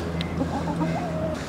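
Backyard chickens clucking and murmuring inside an empty greenhouse on a windy day, short soft calls rising and falling over a steady low background rumble.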